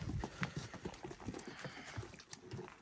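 Farm animals inside a Berber Amazigh house in Morocco, with donkey and sheep kept alongside the cooking area, give off a steady run of low shuffles and knocks, like hooves shifting on the floor, close by, with no talk.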